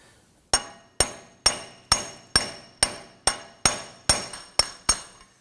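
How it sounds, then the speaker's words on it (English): A large brass punch is struck with a hammer against the end of a Volvo XC90 front axle shaft, eleven sharp ringing metallic blows at a steady rhythm, close and loud with no talk. "Now we're going to use a large brass punch on the inside."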